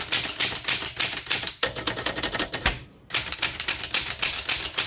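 Rapid mechanical clacking from a 1935 Woodstock 5 antique typewriter as each key is struck in turn, loud and close in a fast even rhythm, broken by one brief pause near the end, with no voices.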